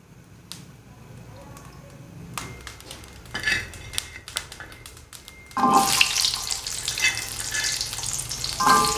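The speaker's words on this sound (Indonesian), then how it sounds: "Saya tuangkan sedikit minyak." Oil poured into a pan while cooking a spicy Indonesian penyet with grilled eggplant, starting as scattered clicks and clatter, then bursting into a loud, steady, close sizzle that continues to the end.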